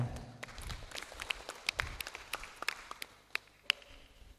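Scattered applause from students at an anti-corruption school session, sparse individual claps popping irregularly over a quiet room rather than a full ovation.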